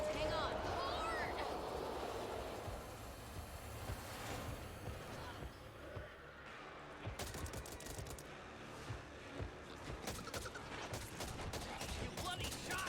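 Gunfire in the co-op zombie shooter Back 4 Blood on Nightmare difficulty: bursts of rapid shots crackle over a rumbling background, with frantic voices talking throughout.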